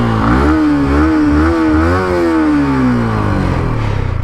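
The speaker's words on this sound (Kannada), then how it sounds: "ಸೊ ಒಂದು ಸತಿ ಎಕ್ಸಾಸ್ಟ್ ತೋರಿಸ್ತೀನಿ" The exhaust of a 2023 Yamaha R15M motorcycle revs loud and close. Its steady idle note climbs as the throttle opens, holds briefly, then falls back to a rumbling idle.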